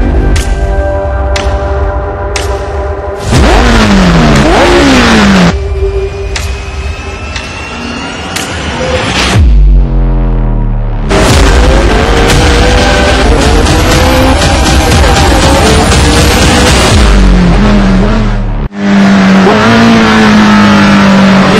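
McLaren 765LT V8 track car in the Assetto Corsa racing game, its engine revving hard and loud throughout, with repeated rising sweeps through the gears and a short drop before climbing again.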